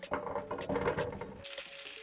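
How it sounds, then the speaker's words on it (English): Potatoes pan-frying in a hot pan, a soft crackling sizzle close by, with a brief stir and the sizzle fading quieter near the end. "I'm pan frying these potatoes"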